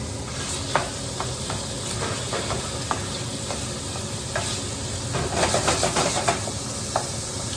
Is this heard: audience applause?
no